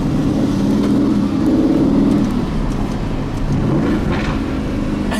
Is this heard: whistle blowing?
no